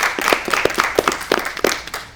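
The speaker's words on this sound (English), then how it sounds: "let's give them a round of applause for that" An audience at a forum applauds, with a loose cluster of sharp, distinct hand claps in an uneven rhythm that stays fairly close and loud and never swells into dense applause.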